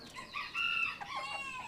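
Close chicken calls from a blue rooster among hens: a short burst of loud clucking and crowing-like squawks, with no one speaking.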